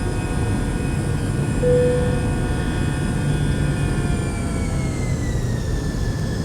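Airbus A319 jet engines in a flight simulator climbing after takeoff, a steady loud broadband roar with a low rumble and thin whining tones that slowly shift in pitch, continuous throughout with no talking.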